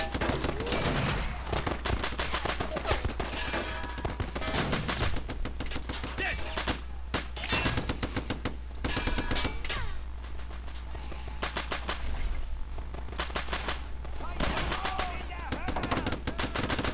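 Rapid bursts of gunfire in the video game Red Tide, loud repeated shots and machine-gun volleys hammering almost continuously over a low background hum, with short gaps between bursts.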